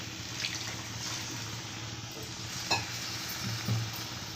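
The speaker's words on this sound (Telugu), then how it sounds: "ఇప్పుడు వాటర్ వేసుకుందాం" Onions that have been frying in a pan sizzle steadily, with a watery splashing texture as water is added and a couple of brief clinks.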